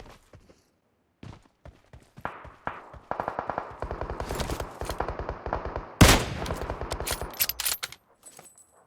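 Gunfire in PUBG Mobile on the Sanhok map, with a player shooting from inside a building. Scattered single shots give way to sustained rapid bursts, then one loud close blast and more volleys before the shooting fades.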